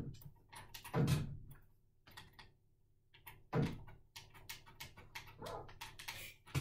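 Puppy in the Minecraft video game whimpering and yelping in short separated bursts, a few sharper barks standing out among softer whines, fairly quiet and close.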